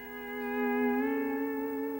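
A sustained, singing steel guitar phrase slides smoothly between pitches, ringing with a bright, clear tone and no talking.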